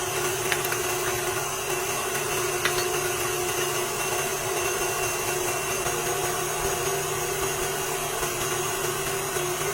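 Six room-temperature eggs whisked for tres leches cake batter give a steady, loud whirring drone that holds without a break for the whole stretch, with no talking.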